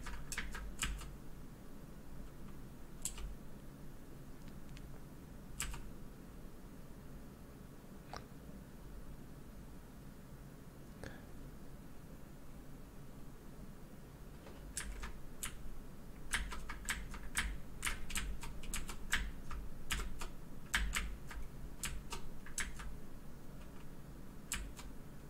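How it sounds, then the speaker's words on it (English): Computer keyboard keys clatter in scattered taps and short bursts during a racing game, faint over a low hum and growing busier and denser in the second half. "I'm using a keyboard controller instead of the Xbox controller right now, if you're wondering why I'm driving so poorly"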